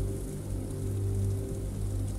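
Rain patters steadily on the fabric of an oversized black umbrella, a soft, even wash of droplets with a low constant rumble underneath.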